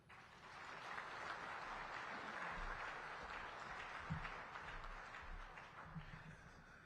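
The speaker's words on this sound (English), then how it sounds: "Another round of applause for the SADC Executive Secretary, His Excellency Mr. Elias Magosi." Audience at the SADC Summit applauding after the opening remarks, a fairly soft, even patter of many hands heard from a distance in a large hall, holding steady throughout.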